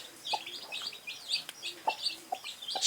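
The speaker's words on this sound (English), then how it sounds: "Here you can also be able to see another hen." A hen on a small village poultry farm, near her brooding nest, gives soft, repeated clucks amid light chirping, a steady irregular patter at moderate loudness without talk.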